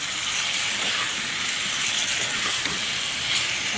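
Mango pieces dropped into a bubbling curry pan, giving a loud, continuous broadband hiss and sizzle that stays even throughout, close and without voices.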